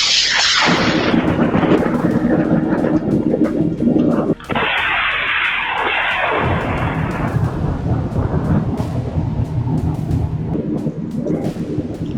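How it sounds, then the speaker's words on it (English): A lightning strike hits near a patrol vehicle: a sharp crackling crash followed by loud, rolling thunder rumbling close and heavy, with a second burst midway and a long, continuous roar under rain-like hiss. "Lightning suddenly strikes a patrol vehicle, creating a terrifying and shocking moment for everyone inside."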